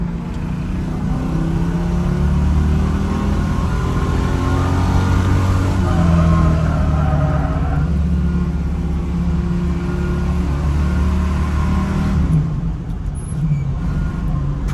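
A car drives through rural Appalachia with a loud, steady engine drone and road rumble, the note rising and falling slightly as it accelerates, then easing near the end.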